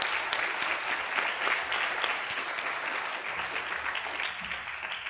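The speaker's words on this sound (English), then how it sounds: "So let's give them a round of applause." An audience applauds student essay authors at a reading event, a sustained burst of clapping from many hands at a fairly even, lively level throughout.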